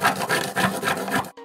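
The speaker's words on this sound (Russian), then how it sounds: "это просто натереть в темной шоколадной терке" Dark chocolate is rubbed against a grater in quick, close rasping strokes, about five in a row, before stopping.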